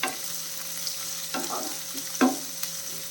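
Onions sautéing in a pan, a constant sizzle broken by several scraping stirs of a spoon, one sharper clatter near the end, close and fairly loud with no talking.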